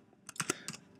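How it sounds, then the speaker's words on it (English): A burst of computer keyboard typing, several quick keystroke clicks clustered together at close range, written into what works like a blog editor, with a quiet background and no talking. "If I start typing something like,"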